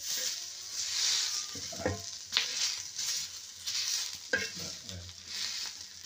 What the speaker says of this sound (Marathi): बारीक कांदे बघा किती मस्त भाजले,